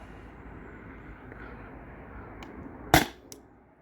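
A single sharp shot from a Sabre CO2 home defense launcher, a loud close crack rising from a steady low background hiss, followed by a fainter second pop moments later.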